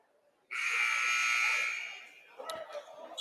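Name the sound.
buzzer starting basketball quarter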